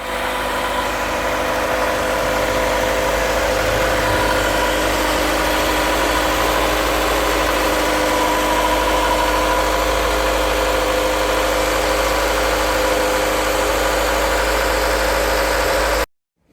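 A Mazda MX-5 under restoration, with a water-pump problem, idles steadily and close up with a constant droning hum and a faint rattle, running alone without talk for about sixteen seconds before cutting off abruptly.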